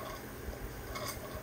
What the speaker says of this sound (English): right now I'm clearing the condensation from the engine, which is going into the chop pot here